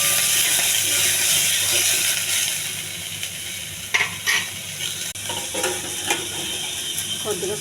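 Onions and curry leaves being stirred and sizzling in a hot pan, a steady frying hiss with intermittent scraping and clinks of the spoon against the pan, close by with no talking.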